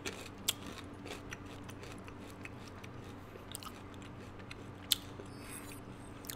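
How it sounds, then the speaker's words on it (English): Crisp, steady chewing of crunchy multi-grain chips sits close to the mic during a Call of Duty Black Ops III session, with a constant crackly munching texture and a couple of sharper crunches standing out. "You chew really loud."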